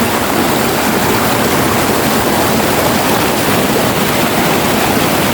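Cold river water rushing steadily over rocks at a mountain crossing, a loud, continuous broadband roar close by with no break from start to finish.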